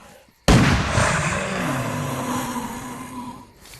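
A hunter in a film fires at a trapped alien creature: one sudden loud blast breaks the quiet and leaves a long, rolling, slowly fading boom.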